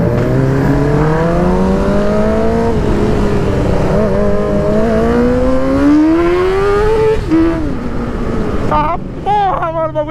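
Yamaha XT660 and Honda Hornet motorcycles revving hard while riding together, loud and continuous, engine pitch climbing through gears with wind buffeting, a sharp rev change near the end.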